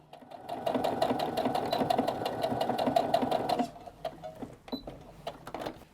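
A sewing machine stitches a skirt hem with yellow thread, a close, rapid, even mechanical chatter that runs for several seconds, then stops, leaving a few soft clicks.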